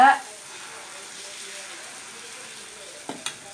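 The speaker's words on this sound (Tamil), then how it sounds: "ஊற்றும் போது பாருங்கள் நல்லா சீனு சவுண்டு வருது" Masala dosa batter made from ration-shop rice hits a hot pan with a quick burst, then settles into a soft, steady sizzling hiss, with a couple of small clinks near the end.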